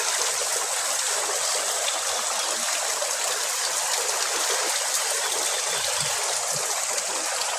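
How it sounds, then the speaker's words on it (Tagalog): A large stream flows in a steady, continuous rush of water, close and fairly loud, with no talking over it. "Malaki itong sapa."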